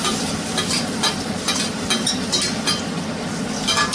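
Spiced chicken fries in a generous amount of oil, a loud, dense sizzle up close with rhythmic scraping and stirring strokes every half second or so.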